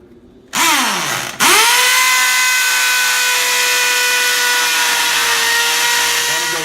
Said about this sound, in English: If it bottoms out, you got to take it out and re-drill it.